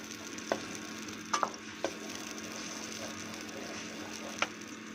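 Ground onion frying in oil until brown makes a quiet continuous sizzle, with a handful of sharp clicks and taps from a spoon against the pan spaced through it.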